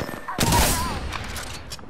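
Gunfire in the video game Apex Legends, a loud sharp shot burst followed by lighter crackling shots and ringing echoes, with a voice speaking over the game sound.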